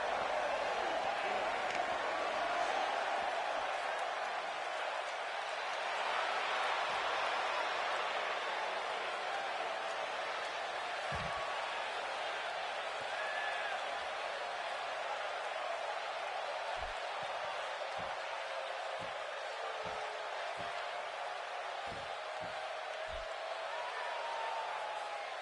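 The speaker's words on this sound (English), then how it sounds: "Would you listen to this crowd?" A large wrestling arena crowd at SmackDown Live roars continuously in a dense, sustained wash of cheering, with a few dull thumps underneath.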